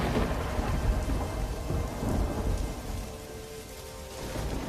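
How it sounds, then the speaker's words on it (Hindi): Heavy steady rain pours down with low rumbling thunder rolling underneath, a dense continuous wash of sound with no voices. "बारिश तो रुकने का नाम ही नहीं ले रही।"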